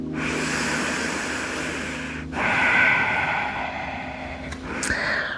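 Slow, deep breathing drawn in and let out during a yoga stretch, a long steady breath of broad airy hiss followed by a second one, close and fairly loud over a faint low hum, with no talking.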